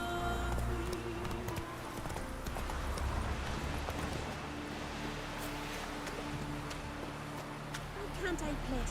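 Roach the horse gallops in The Witcher 3, a continuous rapid clip-clop of hooves over layered game music and ambience, with voices talking over it.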